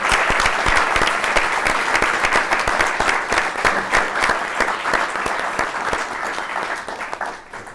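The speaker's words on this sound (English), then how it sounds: "Please give a hand of applause to Steve in this awesome pink." A crowd at a Berlin gathering claps for Steve, who is dressed in pink. The applause is loud and close with crisp individual claps, strong at first and slowly thinning out toward the end.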